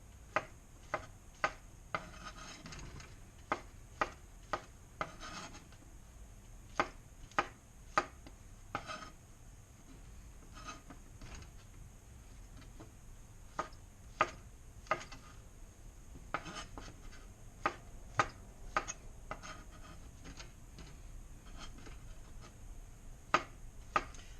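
A knife cuts button mushrooms into large chunks on a cutting board, giving sharp, irregular taps in quick clusters with soft scraping between them, close and quiet.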